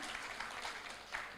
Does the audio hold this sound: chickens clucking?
no